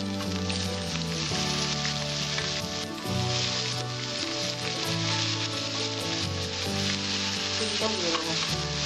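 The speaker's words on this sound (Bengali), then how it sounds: "আমি এর মধ্যে আলুটা দিয়ে দিচ্ছি। বেগুনটাও দিয়ে দিচ্ছি এর মধ্যে।" Potato and eggplant pieces fry in hot oil in a pan, producing a loud, dense, continuous sizzle with faint crackles throughout, heard close and without talking.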